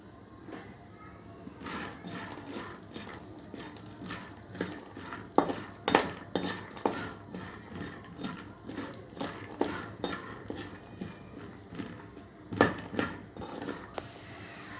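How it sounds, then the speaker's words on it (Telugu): Peanuts, about 100 grams, dry-roasting in a kadai while a spatula stirs them, giving irregular close scrapes, clinks and rattles over a low steady background, with no talking. "పల్లీలు హండ్రెడ్ గ్రామ్స్ తీసుకున్నాను ఈ కాగిన్నంలో వేస్తున్నాను"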